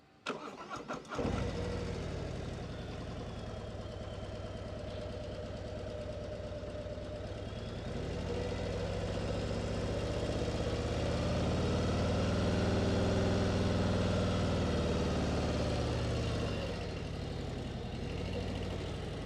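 A 2024 Harley-Davidson Street Glide motorcycle starts up with a few sharp bursts, then its engine rumbles steadily and swells as the bike rides closer, easing back near the end.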